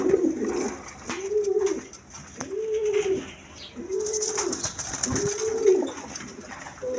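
Pigeons coo at a pigeon sale, with a run of five deep rolling coos at a steady pace close by and a quieter rustle beneath them.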